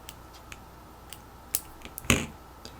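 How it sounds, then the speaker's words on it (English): Scissors snipping thread during background netting lacework, a few short sharp clicks with one louder snip near the end, close and alone in a quiet room. "Cut thread"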